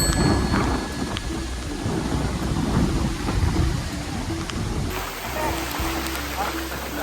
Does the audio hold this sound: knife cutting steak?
no